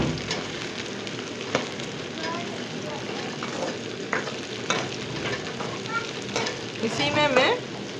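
Onions turning golden fry in a pan with a continuous sizzle, while a spatula scrapes and taps against the metal in an irregular rhythm, heard close up, with a brief squeaky scrape near the end.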